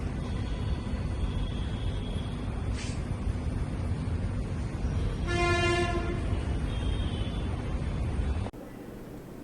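A goods train on a railway track at Dharmavaram, with steady loud rumble throughout, a brief horn blast near the middle, then cutting to quieter background at the end.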